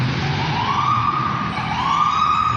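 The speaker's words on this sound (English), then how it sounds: "as you see the ambulance coming along" An ambulance siren wails outdoors in slow rising sweeps, loud and steady over constant street and traffic rumble, with no voices.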